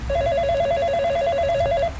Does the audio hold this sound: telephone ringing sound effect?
yes